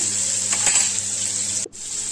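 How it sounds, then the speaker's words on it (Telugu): Round slices of bitter gourd frying in a pan over medium flame give a steady, close hiss of sizzling oil that drops out briefly just before the end. "తీసేసుకుని రౌండ్గా కట్ చేసుకున్న కాకరకాయ ముక్కల్ని వేసుకుని వేయించుకుంటున్నాను."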